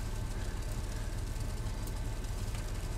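Car engine with a titanium side-exit exhaust in GTA 5 Online, a steady, droning low rumble held at an even level throughout, close and unbroken, with no talking.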